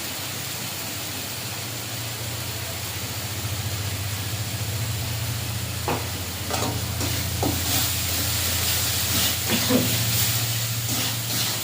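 Continuous loud sizzling and frying of spice paste in oil in a pan for fish curry, with scraping stirs and crackling bursts joining midway, no voices.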